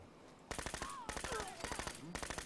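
Rapid bursts of Glock P80 pistol fire from the Fallout 4 game, sharing the basic 10mm sound, come in three quick strings of sharp, evenly spaced shots after a brief quiet start.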